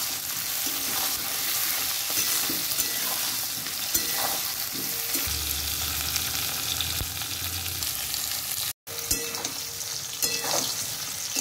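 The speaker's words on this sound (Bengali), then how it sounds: "পেঁয়াজ ক্যাপসিকাম ভাজা হয়ে গেছে" Sliced onion and capsicum fry together in a pan with a continuous dense sizzle and crackle, occasional stirring scrapes, and a brief dropout near the end.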